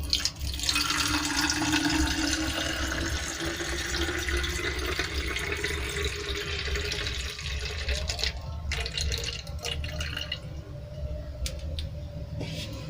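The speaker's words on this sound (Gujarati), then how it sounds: "તો અહીંયા લીંબુના રસને આપણે બોટલમાં એડ કરી લઈશું." Lemon juice poured into an empty bottle, a steady liquid trickling and splashing with a continuous watery hiss that thins out toward the end.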